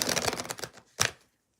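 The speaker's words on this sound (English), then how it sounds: "let me shuffle these" Tarot cards being shuffled by hand: a quick run of dense riffling rustles, a short pause, then one final crisp snap of the deck, close and fairly quiet.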